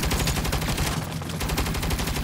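Dense, continuous automatic gunfire from a turret in the Saints Row video game, loud and sustained throughout, with a brief dip in the middle.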